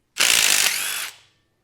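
A ratchet breaking loose bolts on an LS 6.0 engine gives a single quick, close burst of rapid metallic clicking lasting about a second.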